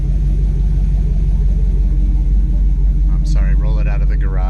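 A deep, steady V8 engine rumble from a Chevrolet Colorado truck idles loudly and continuously; a voice briefly speaks near the end over it.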